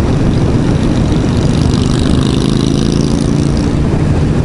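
A Yamaha MT-09 motorcycle engine drones steadily and loudly throughout, a constant low rumble with no talk over it.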